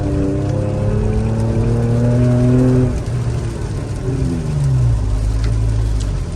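A 2018 Toyota Tacoma with a FlowFX cat-back exhaust driving, its engine note rising through revs, dropping on a shift and climbing again, loud and close with no talk over it.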